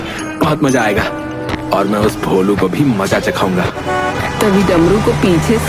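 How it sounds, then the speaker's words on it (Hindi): A vehicle horn honks on a busy road with a big truck and traffic behind, sounding in short toots beneath continuous storytelling narration. "हॉर्न की आवाज सुनाई देती है"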